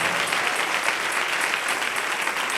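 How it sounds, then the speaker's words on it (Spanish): Congregation applauding during a church service, a loud, dense, continuous clapping that stays steady from start to finish with no voices on top. "Denle un aplauso al Señor en esta preciosa y maravillosa mañana"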